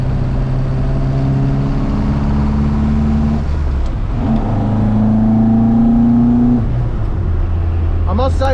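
Ford MK1 Escort rally car with a four-cylinder engine and twin Weber carburettors revving hard, rising and falling through several loud, raspy revs up close. A voice talks over it.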